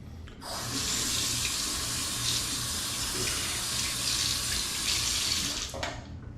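Tap water runs steadily into a bathroom sink as someone rinses after a shave, a close, even splashing rush that starts abruptly and cuts off near the end.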